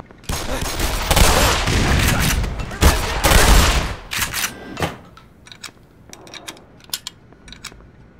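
Gunfire from the game Black Mesa comes as dense loud bursts of shots for about four seconds, then thins to scattered single cracks and clicks, with game sounds throughout.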